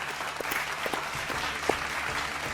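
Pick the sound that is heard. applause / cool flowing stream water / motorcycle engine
applause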